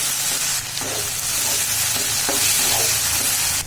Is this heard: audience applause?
no